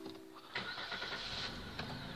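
A Hyundai Azera engine cranks and catches after its starter motor is replaced. It turns over briefly, then settles into a steady mid-pitched running hum, heard close with no talking.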